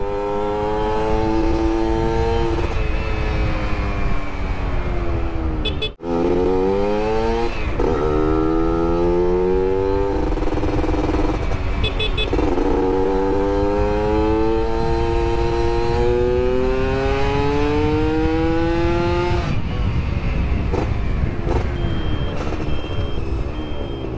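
A Yamaha F1ZR motorcycle with an R&R Racing 3v3 exhaust revs repeatedly, rising and falling in pitch in loud bursts, close by, with a brief cut partway through.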